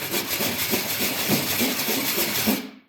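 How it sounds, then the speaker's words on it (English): A file or sandpaper works the cut metal edge of a homemade alcohol camp stove: a continuous close, harsh rasping scrape with faint stroke-by-stroke pulses, loud throughout and then cut off abruptly near the end. "So if you just put your sandpaper down or use a file,"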